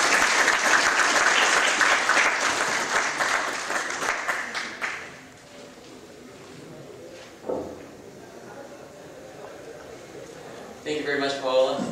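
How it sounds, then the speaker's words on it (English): Conference audience applause for the speakers, loud and dense for about five seconds, then thinning into scattered claps and room noise, with a brief burst of voices near the end. "Why don't everybody give another round of applause for all the speakers?"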